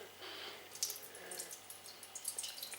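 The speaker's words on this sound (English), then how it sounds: "about 1/4 of an inch of water in the bottom of the saucepan" Water pours and trickles into a saucepan that already holds a little butter, ready for cooking spinach. A soft, steady splash runs throughout with small drips and spatters, quiet and close.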